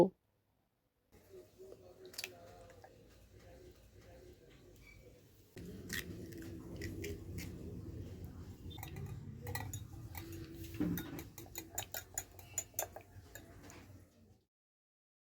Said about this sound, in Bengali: বাটির মধ্যে আমি দুটো ডিম ফাটিয়ে নেব এবং এটিকে ভালো করে মিশিয়ে নেব